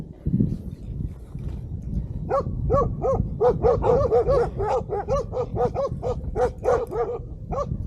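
A dog barks repeatedly in a quick, steady series, close by at a roadside near Eymir Lake, Ankara, with some low rustling noise underneath.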